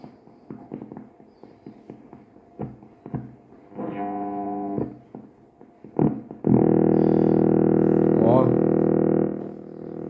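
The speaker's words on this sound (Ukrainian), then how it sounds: "якийсь радар працює, е, чути потужний сигнал. Е, він має приблизно 25 МГц трошки вище." A radar signal near 25 MHz comes through a Grundig Satellit 2100 shortwave radio: rapid clicking pulses, then a loud, sustained buzzing drone with a warbling tone riding on it.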